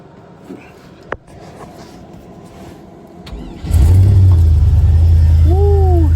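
A Duramax LLY diesel pickup truck, long sitting and on a battery charger boost, cranks briefly and then fires, settling into a loud, steady diesel idle close by, with a short squeal of a belt or pump near the end.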